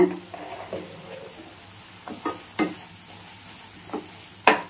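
Tomato thokku with freshly chopped coriander is stirred in a pan over a faint sizzle, with a few sharp spoon scrapes and knocks spaced out across the clip.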